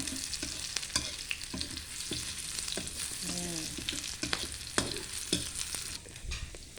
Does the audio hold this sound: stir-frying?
yes